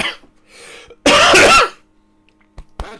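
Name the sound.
cough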